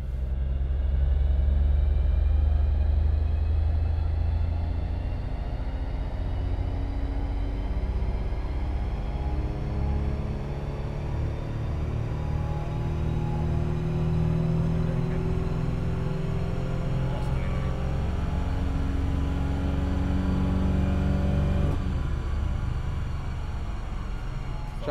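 The small carburetor engine of a Maruti 800 DX drones steadily at high load on a dynamometer for a long stretch, a continuous mechanical roar with harmonics that climb slowly as revs build.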